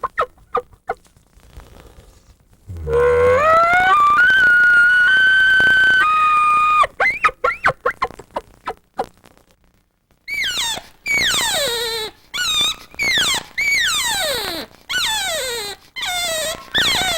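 Vocal imitation of an elk threat bugle: a low grunt rising into a long, high whistling squeal, followed by a series of rapid, descending chuckling calls in short bursts, loud and close.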